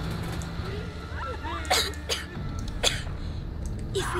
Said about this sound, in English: They'll hear you coughing.